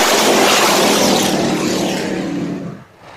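A pack of race cars roars past at a green-flag restart, loud and close, the engine noise sweeping by and fading toward the end.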